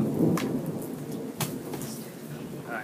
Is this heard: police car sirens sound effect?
no